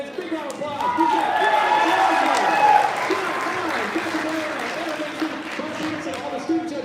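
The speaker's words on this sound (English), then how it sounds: "Let's give it up for our judges. Big round of applause." A large audience applauds the judges at a Poetry Out Loud competition, loud clapping filling the room, while a presenter's voice carries over it through an amplified microphone.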